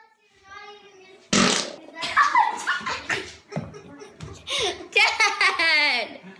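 A father lets out a loud, short fart, followed by someone talking excitedly amid giggles and laughter.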